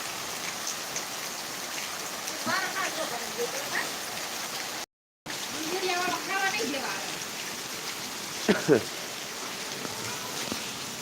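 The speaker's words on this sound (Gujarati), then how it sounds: "વરસાદ પડી રહ્યો છે" Rain falls steadily on a cotton farm during a storm, giving a continuous close hiss of drops with a brief dropout midway and faint voice-like sounds scattered beneath.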